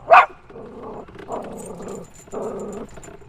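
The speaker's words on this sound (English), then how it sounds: "Little wiener dogs over there" Small dachshunds bark and growl nearby: one sharp yap, then a few lower, drawn-out growling barks.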